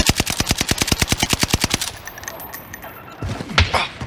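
Rapid automatic gunfire in a video game, a steady burst of about twenty loud, evenly spaced shots lasting nearly two seconds, followed by quieter ambient game noise and a heavier thud near the end.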